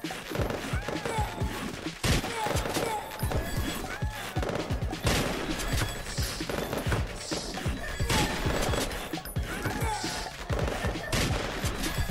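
Dense, continuous rapid gunfire from an assault rifle mixed with rocket launcher blasts and impacts in the video game Slime 3K, a busy layered barrage throughout, with game sounds faintly mixed under it.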